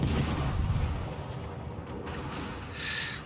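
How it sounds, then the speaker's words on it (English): Naval guns firing in World of Warships as a Kagero-class destroyer player shoots at the cruiser York: dense, continuous rumbling booms of battle, steady and loud throughout with a brighter burst near the end. "And I'm shooting York, trying to finish her up."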